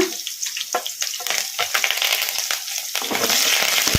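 Crushed garlic and curry leaves hit hot oil in a pan, over lentils already browned, and set off a loud, crackling, spattering sizzle. The sizzle swells and settles into a steady fry close by.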